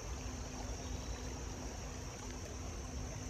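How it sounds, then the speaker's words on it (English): A creek flows through a park at Olde Quarry Park, making a steady broadband rush and trickle. It is heard alone at a moderate distance, with no talking. "Creek over there."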